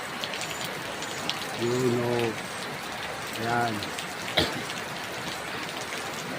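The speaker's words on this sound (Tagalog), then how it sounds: "Lakas ng ulan, no?" Heavy rain falls steadily throughout, a dense broadband hiss beneath brief bursts of nearby talk.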